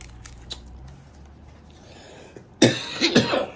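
Crinkly wrapper rustling from a throat lozenge being opened, a couple of sharp bursts close by after a quiet stretch with faint shuffling.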